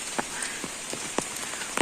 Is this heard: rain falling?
yes